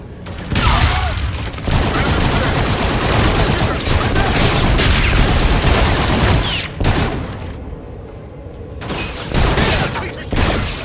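Heavy gunfire in Call of Duty Infinite Warfare: dense automatic bursts and rapid shots fill most of the stretch, loud and close, with brief lulls and voices talking underneath.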